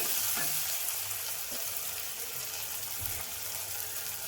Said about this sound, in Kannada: ನಮಗೆ ಮೆಂತ್ಯ ಸೊಪ್ಪೆಲ್ಲ ಚೆನ್ನಾಗಿ ಫ್ರೈ ಆಗಿದೆ